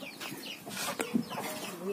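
A large chicken clucks in a rural yard near stacked firewood, soft repeated clucks mixed with other faint bird calls and low background noise.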